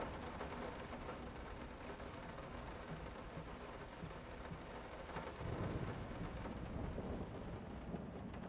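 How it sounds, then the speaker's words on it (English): Thunder and rain in the horror game Layers of Fear: a steady, dense downpour hiss with low rolling rumbles of thunder swelling midway, quiet and continuous. "The lightning and thunder just keep getting louder,"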